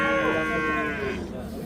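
Cattle at a hot outdoor livestock bazaar in Surkhandarya, Uzbekistan: one long, loud, drawn-out moo close by, with a faint crowd murmur underneath.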